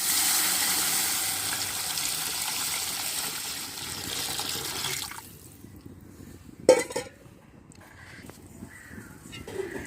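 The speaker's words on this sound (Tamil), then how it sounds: "இப்போ 2 கப்பு அளவு தண்ணி கலந்து ஊற்றியாச்சு." Water gushes steadily into a pot of rice and coconut milk for several seconds, then stops, leaving a soft bubbling simmer with a brief clank.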